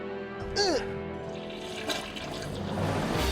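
A toilet flush is pulled, giving a short rushing swirl of water that carries on under excited talking and a brief squeaky cry.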